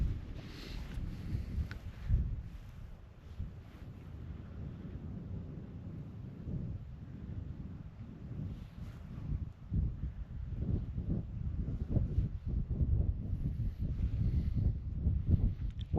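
Wind blows outdoors, buffeting the microphone with low rumbling gusts that rise and fall, faint and fairly constant with no talking.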